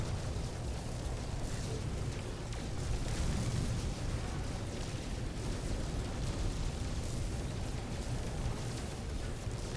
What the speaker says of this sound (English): Huge cannons.